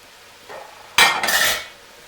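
Carrots tip into a pot of softening garlic for tomato and lentil soup, a soft thud followed by a loud clattering tumble and scraping stir against the pot, close and brief with no talk.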